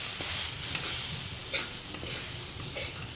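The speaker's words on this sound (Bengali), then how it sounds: "মশলাটাকে গুলিয়ে নেব।" Cumin, coriander, turmeric and Kashmiri chilli powder being stirred and mixed in a hot pan, making a continuous close sizzle and hiss with a few faint scraping taps of the spoon, no speech.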